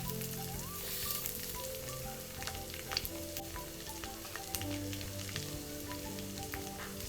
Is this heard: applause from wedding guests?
no